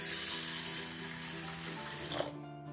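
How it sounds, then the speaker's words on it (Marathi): Tap water runs steadily into a kitchen vessel while lentils for dal are washed, a close, even gushing that cuts off just before the end, with no speech. "तर आता ही डाळ मी धुवून घेते"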